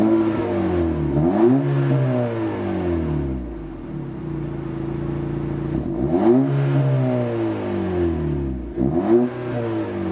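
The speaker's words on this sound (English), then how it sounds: "I want you to hear the sound of this car. Listen to the sound of the car." A 2023 Acura Integra A-Spec engine revs up three times in close succession, each rise sweeping up and falling back to a steady idle between bursts, loud and near with no talking.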